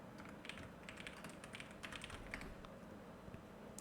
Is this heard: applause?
no